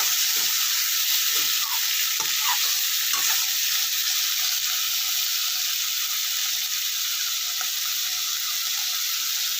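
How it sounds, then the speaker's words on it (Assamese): Cashews with a pinch of salt fry in a pan for butter chicken, a steady close sizzle hissing continuously with occasional faint stirring clicks, no voices. "এইখিনি প্ৰথমে ভালকৈ ফ্ৰাই কৰি ল'ম।"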